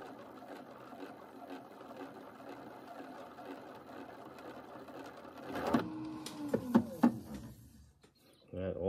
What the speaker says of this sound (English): So this was easy to start it doing the chattering.